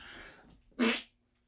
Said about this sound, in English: that's a morning fart